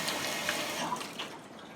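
Cold tap water runs steadily over seeds being rinsed at a sink, a soft, continuous splashing wash at close range with faint drips and no voices.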